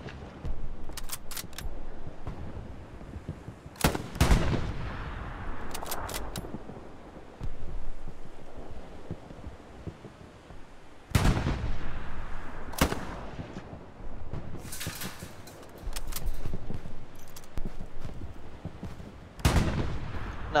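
Tank cannon blasts and gunfire ring out in the WWII shooter game Hell Let Loose, with several loud, sharp booms and bursts spaced over a constant rumbling battlefield din and no talk.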